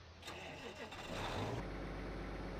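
A tractor engine running in Farming Simulator 15 on a South West Norway map, out of fuel but still turning over, a steady mid-pitched drone that thickens and grows louder partway through and holds.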